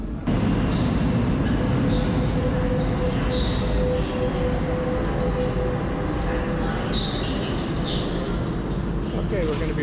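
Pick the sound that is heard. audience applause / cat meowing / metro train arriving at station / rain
metro train arriving at station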